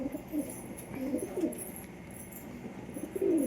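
Pigeons cooing in a loft, including a red pigeon, soft low throaty coos repeating in short bursts close by against a faint background.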